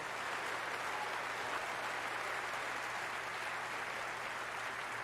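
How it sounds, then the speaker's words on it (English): Snooker crowd at the Masters giving a round of applause after John Higgins misses the black, a steady wash of many hands clapping with no voices. "He gets a round of applause anyway."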